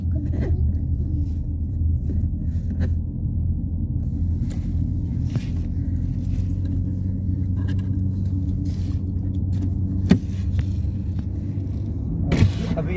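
A car drives along a road past a large tent encampment near Makkah, giving a steady low engine and road rumble with occasional faint clicks and knocks, heard close and continuous with no talking.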